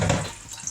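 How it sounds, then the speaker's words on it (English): Tap water splashes over rice being rinsed in a colander in a kitchen sink, a brief, close burst of running water that quickly thins out. "the rice is in the sink in the colander. And you can rinse it around some"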